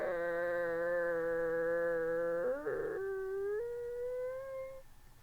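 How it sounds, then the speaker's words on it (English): A wolf howl, one long sustained tonal cry that holds steady, then slides upward and trails off near the end, heard alone against quiet background noise. "The wolf is now outside the gate."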